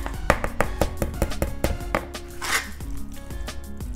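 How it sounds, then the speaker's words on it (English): A spoon scrapes and knocks around a dish while sweet potato casserole mixture is stirred by hand, giving a rapid series of clinks and scrapes, close and fairly loud, with no talking. "I'm going to stir that around just a little bit. Get it all blended up there."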